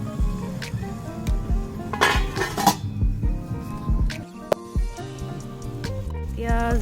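A lid goes onto a pot of carrot halwa cooking on the stove, giving a few metallic clinks and knocks with one sharp clank near the end, under steady background music.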